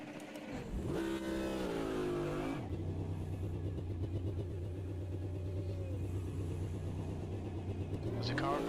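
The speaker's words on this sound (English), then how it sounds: "There's a car approaching." A race car engine in a racing video game rises and holds a steady high-revving drone as it approaches, loud and sustained with pitch shifts.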